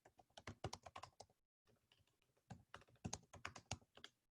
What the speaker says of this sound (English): I'll type it in here really quick.